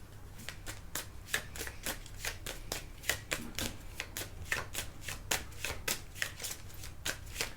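Tarot cards being shuffled and drawn from a deck, a quick run of crisp, evenly spaced riffling flicks close to the mic, soft and steady with no talking.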